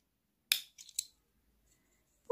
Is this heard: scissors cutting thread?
yes